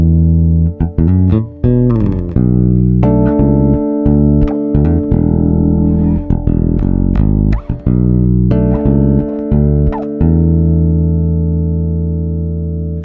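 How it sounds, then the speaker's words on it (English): A Spector Frank Bello signature bass through its active EMG bridge pickup plays a loud, close, punchy line of deep notes and sustained tones with occasional sharp attacks, ending on a long ringing note. "And here's what the bridge pickup sounds like."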